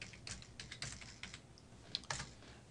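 Typing on a computer keyboard while naming a Photoshop CS5 layer, a quick irregular run of soft, close key clicks with a couple of sharper taps near the end, no voices.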